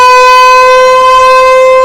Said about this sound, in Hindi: जंगी सायरन भारत में बजेंगे